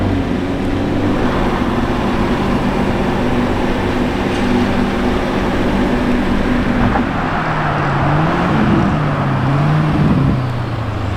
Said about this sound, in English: the black Revuelto is getting back. And it's not alone with the Urus Performante from before.